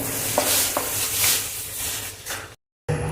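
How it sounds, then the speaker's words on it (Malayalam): Roasted rice flour mixture is stirred in a pan, giving a soft continuous scraping hiss with a few sharper spoon knocks, close and alone before a brief gap. "ഇനി ഇതിലേക്ക് വറുത്ത് വെച്ചിരിക്കുന്ന അരി കുറേശ്ശെ പൊടി ചേർത്ത് മിക്സ് ചെയ്ത് ഇത് നന്നായിട്ട് ഡ്രൈ ആക്കി എടുക്കുക."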